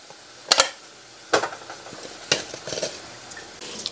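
Spices and leftover lamb seasoning tipped into a hot pan, giving a few sharp clatters and scrapes spread over several seconds with a soft sizzle between them.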